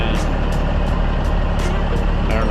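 A loaded grain truck carrying harvested corn drives along a farm road, its engine a steady close rumble with continuous road and wind noise throughout.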